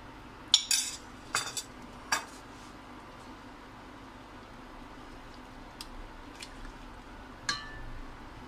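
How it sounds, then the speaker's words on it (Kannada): A spoon stirs shevige payasa, a vermicelli pudding, in a cooking pot, giving a few sharp metallic clinks and scrapes spaced irregularly over a quiet background. "ಚೆನ್ನಾಗಿ ಮಿಕ್ಸ್ ಮಾಡ್ಕೊಳ್ತಾ ಇದ್ದೀನಿ ನಾನು"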